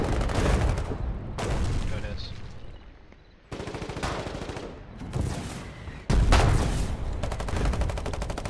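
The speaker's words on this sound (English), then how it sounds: "No, no, I heard their artillery." Gunfire and explosive blasts from artillery fire in the game Foxhole, heavy and continuous in loud overlapping bursts with a brief lull near the middle, while players talk over it.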